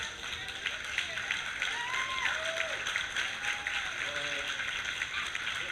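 Audience applause at a TED talk, honouring two grandmothers asked to stand: a steady wash of clapping from a large hall fills the clip at moderate level, with faint voices and cheers rising through it.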